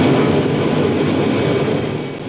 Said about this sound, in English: It's a cargo plane carrying urgently needed medical supplies to Russia